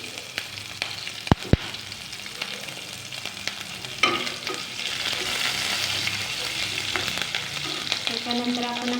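Green chilies fry in a pan with reddened garlic, a continuous close sizzle with sharp clinks of a spoon early on, then louder, busier crackling as the stirring continues; nobody speaks.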